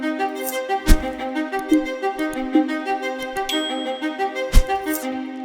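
Cubase Arpache 5 arpeggiator running a synth patch in sixteenth-note triplets, a fast, even stream of bright, bell-like plucked notes with a few louder accents, playing alone.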